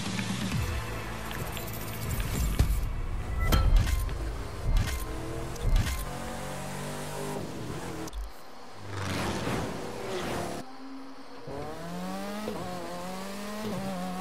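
A classic American muscle car engine in The Crew 2 racing game revs and surges through shifting pitches, with mechanical clatter and rising and falling whines, loud and close, ending in a series of climbing revs.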